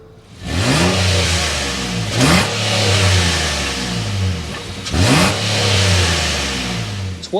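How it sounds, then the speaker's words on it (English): A 2024 Infiniti QX60 Luxe SUV's engine starts and its exhaust is revved three times in quick succession, each loud, close rise and fall settling back to idle between blips. "start this baby up so you can hear that exhaust now"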